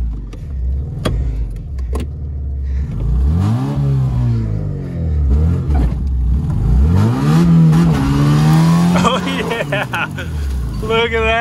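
An older, rusty Honda Civic engine starting and revving up and down several times, loud and close inside the car, with someone talking over it.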